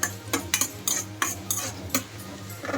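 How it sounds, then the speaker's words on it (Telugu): Cashews frying in ghee in a pan, a spoon clacking and scraping against the metal in quick, evenly spaced strokes over a soft continuous sizzle, close and fairly loud with no voices. "జీడిపప్పు వేగిన తర్వాత సిమ్లో పెట్టి కొద్దిగా కలర్ వచ్చేంత వరకు జీడిపప్పు వేయించుకుందాం."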